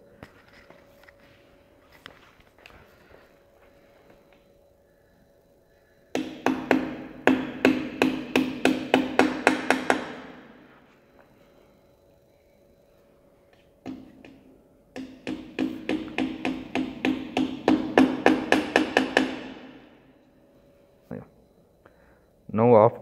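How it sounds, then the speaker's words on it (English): Two bursts of rapid metallic hammer taps as balancing weights are hammered onto a wheel rim, each several seconds long, ringing sharply with quiet pauses between them. "Now it is showing the indication where exactly you need to hammer the weights."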